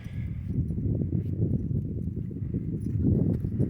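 Hooves of a black stallion clip-clop at a steady walking pace on hard ground, fairly close, with a low rumble of background noise throughout.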